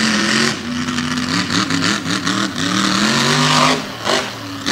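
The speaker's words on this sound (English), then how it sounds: "on the big heartbeat engine in the back of the big white ram." Engine of a white Ram race truck on a dirt track, revving loudly in repeated surges and drops as it slides through a turn, close and dominant with no talk.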